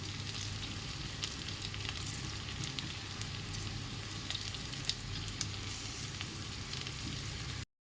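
Green chillies frying in a pan for cauliflower paneer fried rice, a continuous dense crackling sizzle held steady and close for several seconds before cutting off.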